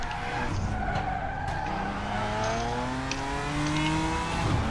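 A GT4 race car on the Nordschleife in a sim racing game skids under late braking, with a sustained tire squeal over steady engine drone for several seconds.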